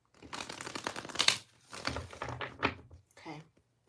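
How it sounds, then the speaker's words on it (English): Tarot cards are shuffled by hand in bursts of riffling and soft slapping, quiet and close, with a short pause between bursts and a final tap. "I feel like I need to do one more shuffle"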